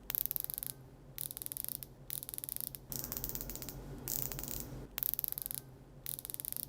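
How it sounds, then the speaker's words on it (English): A super clone replica Rolex's rotating bezel is turned in quick runs of fine, rapid ratcheting clicks, separated by brief pauses, close-up and soft with no voices. "with any rotating bezel we like to do a bezel ASMR"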